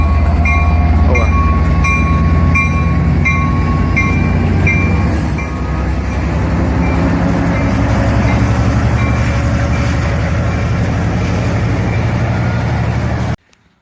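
An early-version EZTEC 4112 Service Railway Express model train set runs on its track, giving a loud, steady rolling rumble with faint rhythmic clicks that cuts off abruptly near the end.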